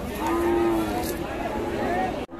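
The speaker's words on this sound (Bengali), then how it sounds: "দারুণ গরু" A cow moos once at a cattle market, a long low call close by, over steady background noise from a busy outdoor setting.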